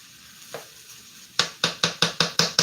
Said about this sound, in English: I know it said stir frequently, but it's a lot to stir